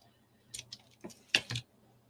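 Scissors snip through chipboard (grey board) along a curve, several short crisp cuts in an uneven rhythm, close and fairly quiet with no talking.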